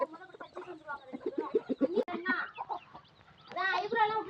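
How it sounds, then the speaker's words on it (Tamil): Chickens clucking and squawking close by, a busy run of short calls, then a louder burst of cackling near the end. "கோழி தான் இருக்குது."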